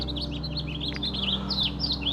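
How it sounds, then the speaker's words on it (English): Birds chirp in a quiet Portland neighborhood, a string of quick bright tweets repeating over a low steady background hum, with no one talking. "Birds chirping"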